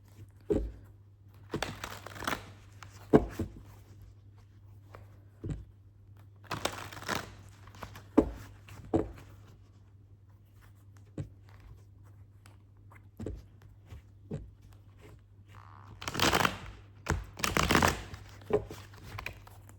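Tarot cards being shuffled and handled, bursts of riffling and rustling separated by quiet pauses, close and dry, with faint background hum and no talking.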